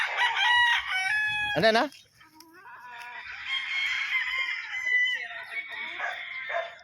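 Butcher over Thompson gamefowl roosters, straight-combed, crowing loudly nearby: one harsh, full crow opens, followed by further drawn-out crows and clucking from the flock, with someone briefly speaking.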